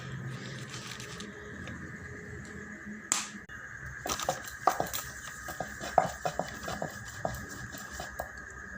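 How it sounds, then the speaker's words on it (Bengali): Roti dough rolled with a rolling pin beside a clay tawa in a home kitchen: soft rhythmic knocks, taps and rolling scrapes, near and fairly quiet, repeating irregularly over a steady background hum. "তো আমি রুটিটা বেলে নিচ্ছি।"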